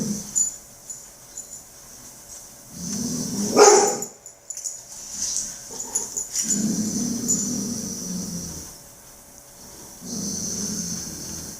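A dog barking nearby during a reactivity training session, a few loud sharp barks followed by huffing, snorting breaths and low rumbling, with quiet gaps between bursts.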